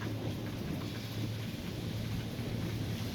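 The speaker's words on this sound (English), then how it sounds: "I just love sitting out here in the rain." Steady outdoor rain with a low rumble of thunder, a dense continuous wash of noise with some wind buffeting on the microphone and no voices.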